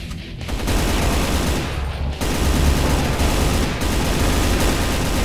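Loud, dense gunfire from the PC game Brutal Doom, rapid continuous shots merging into a sustained roar with brief pauses between bursts.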